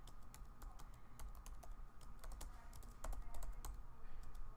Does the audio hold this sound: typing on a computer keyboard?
yes